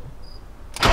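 A BMW 528i cranks and fires at the very end after near silence, a sudden loud burst of engine noise close by.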